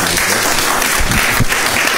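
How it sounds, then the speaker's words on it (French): Applause from a studio audience on a midday Malian television broadcast, loud and close, a continuous thick patter of many hands with a few heavier claps standing out. "On les applaudit très très fort"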